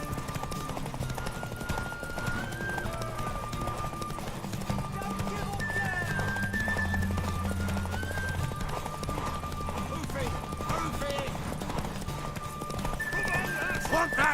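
Horse hooves clip-clop in a steady rhythm in the video game The Witcher 3: Wild Hunt, with a horse whinnying and background music and voices layered over it.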